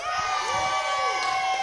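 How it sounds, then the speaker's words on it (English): A live gaming show crowd cheers for a contestant named Jack, a steady mix of shouting children and adults with whoops and calls layered together under bright background music. "Can we have a cheer for Jack?"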